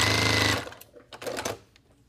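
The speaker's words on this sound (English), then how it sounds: "I'm gonna try to sew as close as I can to this pin so everything stays together without sewing over the pin." A sewing machine stitching a quilt block seam runs in a steady, loud mechanical whir for about half a second, then stops, followed by faint handling clicks and rustles.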